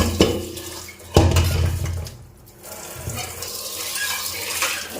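A kadhai (wok) is washed under running water in a home kitchen sink, with clattering metal knocks and scraping over a steady splash of tap water, close and fairly loud.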